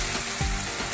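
Gravy hits hot oil for tempering and sizzles loudly in a brief, steady frying hiss, close up, with no voices.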